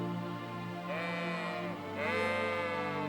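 Sheep bleating in the medieval game Kingdom Come: Deliverance II, two drawn-out wavering bleats in close succession, loud and near, over a steady low ambient hum with no talk.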